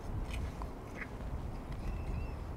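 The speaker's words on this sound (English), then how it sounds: "Now that sounds like an oyster catcher." Oystercatcher calling beside the River Adur, a few short, shrill piping notes heard at a distance over steady low wind or water rumble.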